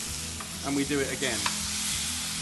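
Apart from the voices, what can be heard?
beef steak sizzling in fat in a frying pan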